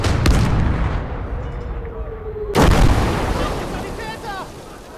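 Heavy artillery fire in the wartime strategy video game Kampfgruppe, a loud booming blast near the start followed by a second sharp burst midway, with rumbling decay and distant battle noise in between.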